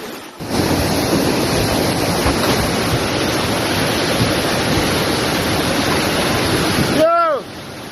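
Floodwater rushing over a road at Garden Town, Jamaica, a loud, constant churning roar mixed with heavy wind buffeting the microphone, a short whistle-like squeal near the end.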